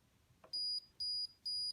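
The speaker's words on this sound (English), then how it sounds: "I also included a light sensor to enable the alarm to go off" An electronic alarm beeps three times in a regular rhythm, high and piercing, each tone lasting about a quarter second, preceded by a faint click.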